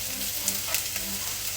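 Chopped onion sizzles and crackles in a hot pot, a steady close frying hiss with a few small pops, no voices.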